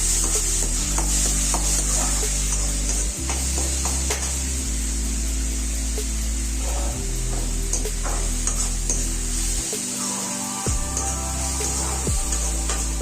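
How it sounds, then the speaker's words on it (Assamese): Ginger and garlic frying in a pan, a close, continuous sizzle with stirring and rubbing scrapes, under a loud tonal background hum. "এইখিনি অলপ দেৰি ভাজি ল'ম মানে আদা আৰু নহৰু কেঁচা কেঁচা গোন্ধটো আহিব নালাগিব"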